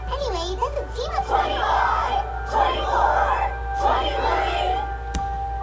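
A crowd of voices murmurs and calls out in a Genshin Impact courtroom scene, swelling in repeated bursts of overlapping chatter over a steady low hum.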